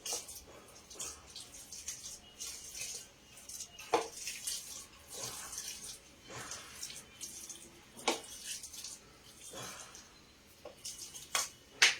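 Water splashes into a cooking pan while besan paneer chilla is being made, with scattered short pours and light clatters at moderate loudness and no voices.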